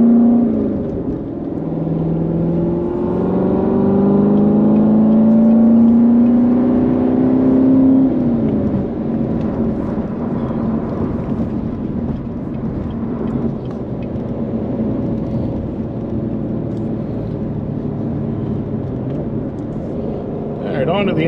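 A C7 Corvette with an Akrapovic exhaust revs and climbs in pitch as it accelerates hard up an entrance ramp, then settles into a lower steady third-gear drone that carries on for a long stretch.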